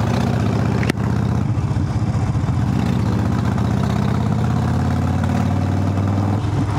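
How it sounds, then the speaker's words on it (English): Harley-Davidson Sport Glide motorcycle engine idling through loud exhaust pipes, a steady close low rumble with a sharp knock near the start, no talk. "the pipes on this bike, transitioning from the sport glide to the sporty, the pipes are so obnoxious"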